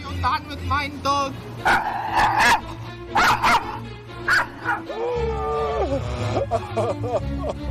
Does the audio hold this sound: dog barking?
yes